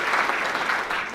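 An audience in a conference auditorium clapping for an honoured guest, a brief, dense burst of steady applause from many hands, fairly loud and continuous.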